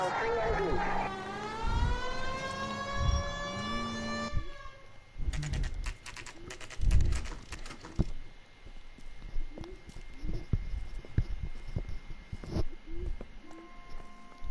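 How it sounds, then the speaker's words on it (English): A police car siren in the video game LA Noire wails with rising, sweeping tones for a few seconds, then cuts off, leaving scattered clattering knocks and thumps at a moderate level. "They heard my sirens."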